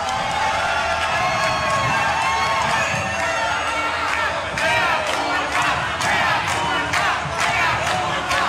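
A big crowd at a video game music concert at a 2021 fan party cheers, shouts and whoops continuously, with loud, dense, raucous noise and scattered claps throughout.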